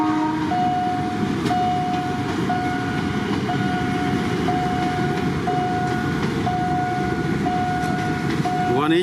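A Kiha 183 diesel train rumbles loudly past a level crossing at Yommarat junction in Bangkok, a continuous heavy rolling roar with a crossing bell ringing steadily throughout.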